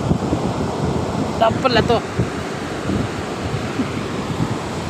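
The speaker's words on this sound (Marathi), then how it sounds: "ये लाटांचा खूप आवाज येत आहे" Steady, loud surf roars on Navapur beach on the sea coast, a continuous wash of breaking waves mixed with wind, and a few voices call out briefly.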